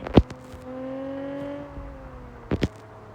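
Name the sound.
car burnout in Car Parking Multiplayer video game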